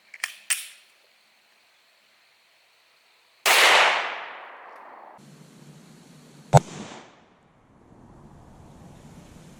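A 9mm 124-grain +P HST round is fired into a ballistic gel block: one loud, sharp blast with a hissing decay, framed by a few brief clicks before and a single crisp snap after, with no talking.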